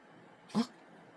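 A single short, dry hack from a dog, one abrupt burst against a quiet background.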